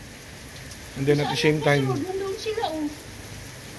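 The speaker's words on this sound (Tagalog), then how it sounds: "Hindi kami makatawid, ang lakas ng ulan." Heavy rain pours as a steady, dense hiss throughout, with a person speaking briefly over it in the middle.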